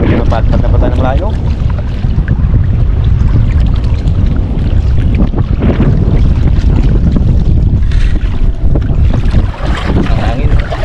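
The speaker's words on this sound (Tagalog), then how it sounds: "Ang hangin." Strong wind roars continuously across the microphone on a small motor fishing boat out at sea at midday, a loud steady buffeting with voices talking intermittently over it.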